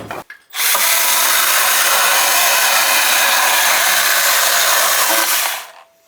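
A Milwaukee 12V compact electric chainsaw, held sideways, cuts with a loud, close, steady motor whine that starts abruptly, holds for about five seconds and then winds down.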